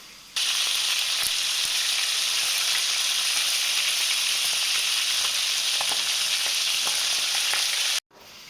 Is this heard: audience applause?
no